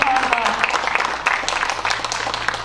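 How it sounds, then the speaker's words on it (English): An audience at a Hart County FFA banquet in Kentucky applauds, the clapping close and continuous, mixed with crowd noise and a voice at the start. "Let's give her another round of applause"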